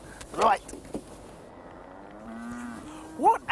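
A cow gives one drawn-out moo in the middle, moderately loud, with brief bursts of talking and other noise just before and after it.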